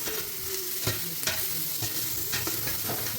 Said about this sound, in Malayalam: ഇനി നമുക്ക് നമ്മുടെ കറിവേപ്പില ഇട്ട് കൊടുക്കാവേ. ഇതോടെ മിക്സ് ചെയ്ത് കൊടുക്കാം.